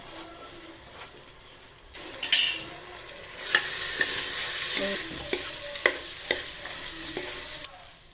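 Chana dal and toor dal are sautéed in oil with turmeric, with a close sizzle swelling as they are stirred and sharp scraping clicks of a spoon against the pan coming at irregular intervals.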